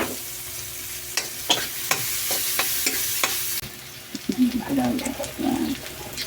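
Chopped onion sautés in a pan, with spoon clicks over a hiss at first, then a louder burst of sizzling as more goes in, a bird cooing and a voice faintly in the background.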